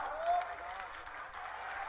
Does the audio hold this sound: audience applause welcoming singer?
yes